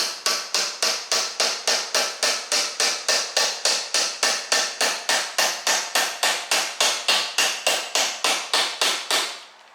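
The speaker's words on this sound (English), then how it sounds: "I'm just going to tap that roll pin." A hammer taps a roll pin through the starter gear shaft of an older Briggs & Stratton flathead engine held in a vise, sounding as about thirty sharp, evenly spaced metallic strikes in a fast, steady rhythm, loud and close.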